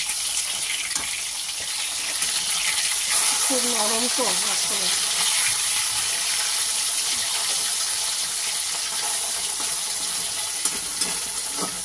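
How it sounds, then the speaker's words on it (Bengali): Pabda fish frying in hot oil in a pan, giving a continuous hissing sizzle throughout, with a person speaking briefly over it. "এবার মাছগুলোকে আস্তে করে উল্টে একটা পিঠ ভেজে নেব।"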